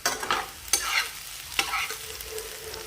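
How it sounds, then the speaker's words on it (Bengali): Fried onions for homemade chicken biryani stirred and scooped from a sizzling pan, with a few distinct scraping strokes over a continuous close frying hiss. "আস্তে আস্তে করে আমি এই পেঁয়াজগুলো 1/3 তুলে নেব"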